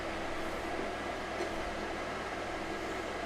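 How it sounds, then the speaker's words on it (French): A Ciarra cooker hood runs over a pot of boiling pasta, giving a steady, loud broadband whoosh of fan and extraction noise that holds constant throughout with no talking. "On a vraiment toute la vapeur qui est aspirée du coup par la hotte."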